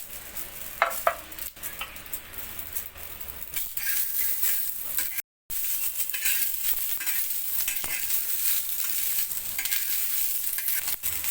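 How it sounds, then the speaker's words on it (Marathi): Fresh green peas roast together with green chillies on a tawa, a continuous crackling sizzle with busy scraping and stirring strokes, cut by a brief silence midway. "मिरचीमध्येच आपण हे मटार सुद्धा भाजून घेणार आहोत।"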